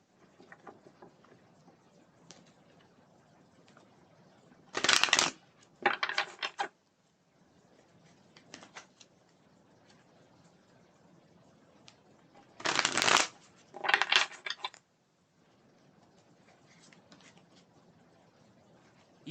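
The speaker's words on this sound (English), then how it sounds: "let's shuffle one more time here." Tarot cards are shuffled in two rounds, each a pair of quick riffling bursts, loud and close, with quiet room tone and faint handling sounds between them.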